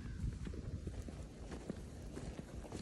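Wild horses with foals move through trees on a ranch, their hooves giving irregular, muffled thuds and clops over ground noise, fairly close and continuous.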